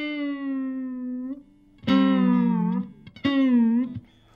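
Electric guitar whammy bar pushed down on sustained notes, each note sliding smoothly lower in pitch, three separate dives played clearly and alone.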